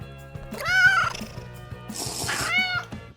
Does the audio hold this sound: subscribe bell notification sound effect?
no